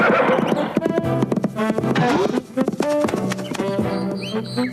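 A horse neighs repeatedly over rapid clip-clop hoofbeats in a busy, loud mix, and the whinnies rise and fall throughout.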